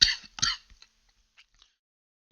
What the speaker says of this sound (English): I apologize again for coughing.